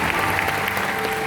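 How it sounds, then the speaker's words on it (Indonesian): A church congregation claps in a short, dense burst of applause throughout, with no talking over it. "Tepuk tangan sekali lagi yang paling meriah buat Tuhan."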